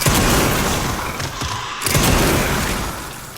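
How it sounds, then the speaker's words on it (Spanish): A Requiem gunshot in Resident Evil 9 (Resident Evil Requiem) blasts loud and booming, with dense, rumbling noise that swells again partway through and then fades slowly. "nada como matar a varios Lickers de un solo disparo de Requiem"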